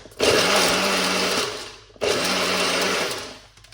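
A blender whirs loudly as it blends green seasoning, running in two short bursts of steady motor noise. There is a brief pause between the bursts.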